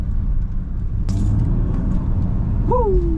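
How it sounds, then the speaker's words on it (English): Nissan GTR driving along behind a truck and trailer, with a steady low engine and road rumble throughout, a brief rattle near the second mark and a rising whistle-like tone toward the end. "I'm now following the S-Series and my trailer in my brand new GTR"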